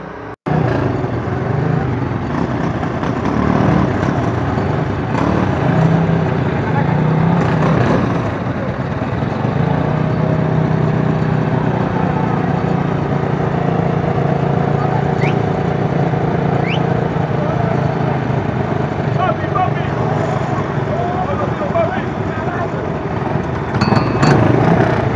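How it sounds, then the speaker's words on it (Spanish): Racing go-karts at a national karting championship in a mall car park in Panama drone continuously with buzzing small engines, a dense loud roar of several karts with no pauses. "los dejamos con las melodiosas notas de sus motores."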